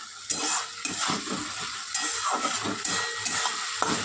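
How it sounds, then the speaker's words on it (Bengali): Ginger-garlic paste sautéed in hot oil with a bay leaf in a pan, for moong dal with hilsa fish head, a soft sizzle broken by repeated scraping and clinking strokes of a metal spatula against the pan. "আদা রসুন বাটা দিয়ে একটু কষিয়ে নেবো"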